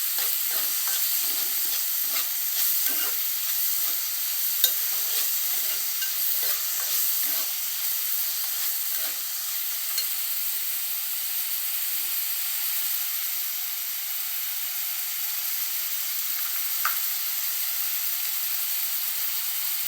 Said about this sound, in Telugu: ఇవి వేగుతున్నాయి